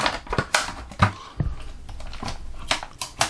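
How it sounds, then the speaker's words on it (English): Dull scissors snip at rubber bands in a series of short sharp clicks and crunches, irregular and close, with quiet gaps between cuts. "These are some dull scissors."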